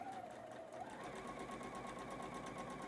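A sewing machine runs continuously while chain piecing a quilt seam, its needle stitching in a rapid, steady pulse, close up and even in loudness throughout.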